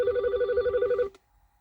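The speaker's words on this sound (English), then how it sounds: "I have a phone ringing here." A phone rings nearby during work on an idling Mini Cooper, a single steady electronic trill lasting about a second before cutting off, with faint low rumble underneath.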